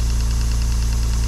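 A Stuart 10V steam engine runs with an air compressor going nearby, giving a loud, steady mechanical drone with a low, even pulsing rhythm and no talking.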